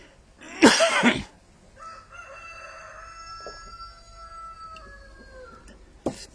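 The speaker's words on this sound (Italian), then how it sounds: "Si sente anche il gallo cantare" A rooster crows fairly close by, a drawn-out call with a harsh burst at the start and a sustained tone after it, set against a quiet rural background.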